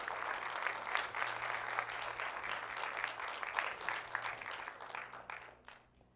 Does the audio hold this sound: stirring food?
no